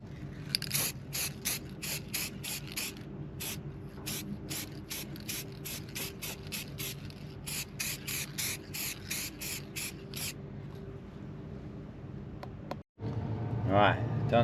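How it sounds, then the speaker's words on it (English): Repeated short hisses of aerosol spray paint, quick bursts in a rhythmic series with brief gaps, close by over faint background noise. "spray that on, should be peachy"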